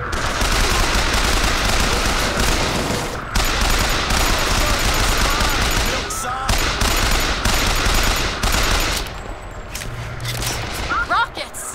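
Gunfire in the video game Bioshock Infinite: loud, sustained automatic fire and overlapping shots pour out almost continuously, with a brief lull near the end before a few more bursts.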